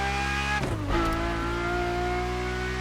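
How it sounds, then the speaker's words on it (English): A Ferrari F50 engine in The Crew Motorfest game screams steadily at high revs, dips sharply for a gear change, then climbs again in a loud continuous howl. "for the sound alone, you have to take the F50. I mean, listen to this"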